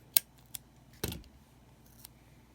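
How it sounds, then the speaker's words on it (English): A few quiet, sharp snips from scissors cutting paper, spaced irregularly, with one louder cut in the middle and otherwise near silence. "Let me get the other scissors."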